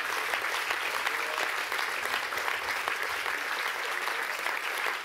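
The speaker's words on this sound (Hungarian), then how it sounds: "Adjunk az Úrnak egy nagy-nagy tapsot." A church congregation applauding during a worship service, steady dense clapping throughout at a moderate distance with no talk over it.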